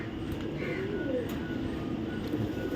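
Maxi racer pigeons coo softly among low, steady background rumble, the faint cooing notes rising briefly over the constant noise.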